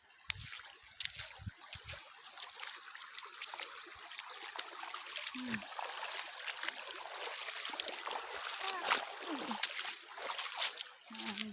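Water trickles and splashes steadily as someone wades across a river near an old, long hanging bridge, with scattered sharper splashes throughout and people talking now and then over the flow.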